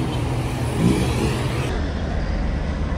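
A car accelerating as it pulls out of a gas station, the engine swelling briefly then settling into a steady hum under constant road noise.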